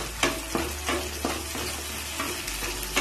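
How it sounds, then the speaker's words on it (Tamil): Onions sauté in oil in a pan for a lentil dumpling curry, giving a steady close sizzle broken by periodic scraping stirs, with no talk. "இதை அப்படியே போட்டு நீங்கள் எண்ணெயில் நல்லா வதக்குங்க"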